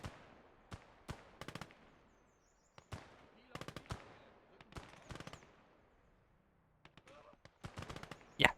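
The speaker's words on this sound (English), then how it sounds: "So essentially we have 3 MGs controlling the point." Machine gun fire in the World War II strategy video game Gates of Hell, short sharp bursts of automatic shots spaced irregularly against a quiet battlefield, some distant and some closer, with talk over it.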